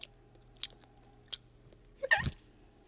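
Someone imitates gum chewing with a few scattered, wet smacking clicks, ending in a louder, longer squelchy chew, close and otherwise quiet.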